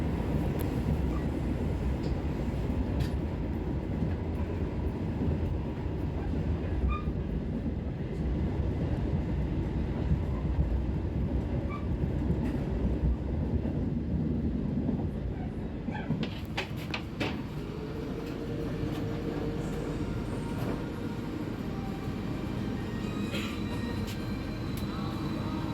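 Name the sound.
passenger train passing through Kebasen Baru tunnel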